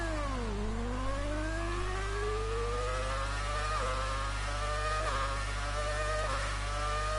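Ferrari Formula 1 car at a race start in F1 2018, Australian Grand Prix: a high engine note dips then climbs steadily as the car accelerates, with quick gear-shift blips over a constant low hum.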